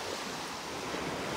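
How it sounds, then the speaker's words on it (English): Ocean waves wash onto the beach at Delnor-Wiggins on a foggy morning, a soft continuous surf hiss with a little wind, no voices. "the sounds of the waves"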